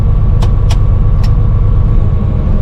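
Caterpillar D6T dozer engine throttled up to full, a steady loud low rumble filling the scene with a few brief clicks on top.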